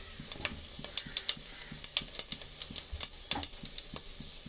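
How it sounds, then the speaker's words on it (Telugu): Mustard seeds, fenugreek and cumin frying in hot oil for a village-style fish curry, giving a steady sizzle broken by frequent sharp pops and crackles, close and fairly loud, with no talking. "నూనె అయితే కాగింది నూనె కాగినంటే ఆవాలు మెంతులు"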